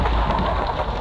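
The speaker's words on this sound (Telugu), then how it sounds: "థండర్ స్టార్మ్స్ బాగానే ఉన్నాయి." Heavy steady rain with a thundery rumble in the Minecraft video game, a dense continuous wash of sound filling the whole moment without any voices.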